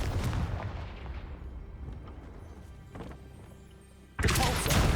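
Booming blasts and heavy crashing from the Confringo fire spell in Hogwarts Legacy, a loud rumbling burst fading over several seconds, a smaller thump near the three-second mark, then another loud blast at the end.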